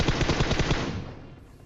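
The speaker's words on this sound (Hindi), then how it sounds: "भाई बस एक गोली पेलते हैं और एक गोली सीधा मेरे सर पे आके लगती है" A short, rapid burst of automatic gunfire in the video game PUBG Mobile, evenly spaced shots rattling close and loud before trailing off into a fading echo.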